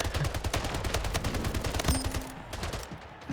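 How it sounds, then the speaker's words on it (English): Rapid video game gunfire from two shooters at once: dense, close bursts of shots rattling over each other for a couple of seconds before tailing off into quieter ambience. "Two people shooting at me at once."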